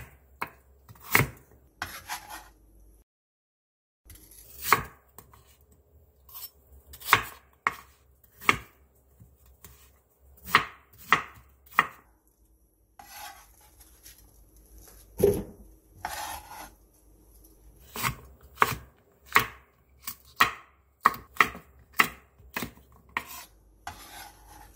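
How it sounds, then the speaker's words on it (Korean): A knife chops onion, radish, apple, pear and red chili into large chunks for kimchi on a board, close and crisp, in irregular bursts of sharp single and clustered strikes separated by brief pauses. "양파 1개, 무 3cm 두께 한 토막, 사과 2분의 1개, 배 4분의 1개, 홍고추 3개를 큼직하게 잘라"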